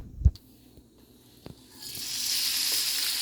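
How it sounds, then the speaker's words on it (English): Onions hit heated avocado or olive oil in a pan, a few knocks and clatters giving way to a steady, bright hiss of sizzling that grows and holds, close and fairly loud. "So when it will become heated, then I will add onions into it."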